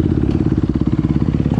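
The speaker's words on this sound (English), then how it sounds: "Just letting the bike get warmed up right now." A 2021 Honda CRF250RX dirt bike engine warms up before a trail ride, a loud, steady, throbbing idle with a fast regular pulse heard close by and alone.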